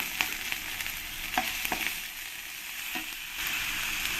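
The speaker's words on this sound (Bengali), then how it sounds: "এবার আমি পেঁয়াজ পেস্টটা দিয়ে দেব" Onion paste sizzles and fries in a hot pan for Bengali katla fish curry, a steady broadband crackle with a few louder spits and stirring scrapes, close and continuous, no talking.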